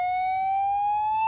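Slow whoop tone from an EST G4F-S2 fire alarm speaker, a loud steady rising electronic sweep that climbs gradually through the whole short stretch, with no speech.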